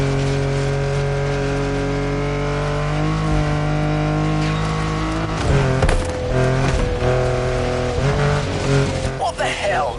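A game car engine drones steadily in a PS5 racing game, with tire noise and skidding building toward the end, loud and close, and talk runs over it.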